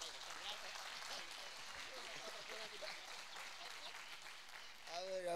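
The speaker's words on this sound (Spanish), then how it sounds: "Fuerte aplauso a la familia" Quiet applause from a Sunday church congregation rolls steadily for several seconds, soft and distant, before a voice cuts in at the end.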